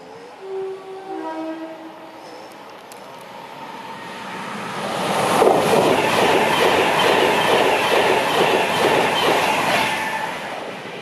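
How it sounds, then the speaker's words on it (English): OO gauge model trains run on a large West Coast Main Line layout at an exhibition, with a horn-like tone early on, then a steady, loud clatter of wheels on rails and squeals that continue throughout. "it looks like the trains are just about running for us"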